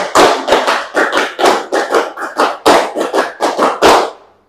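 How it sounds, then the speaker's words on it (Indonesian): A group at a teachers' gathering claps in a sharp, rhythmic patterned sequence of hand claps in quick bursts, loud and close, ending in a final clap that fades out. "Tepuk 5 kali."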